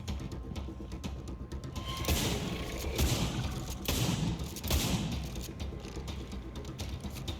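Gunfire in the zombie survival game State of Decay 2, rapid bursts of shots in quick succession with mechanical clicks between, moderately loud and sustained across the stretch with no talking.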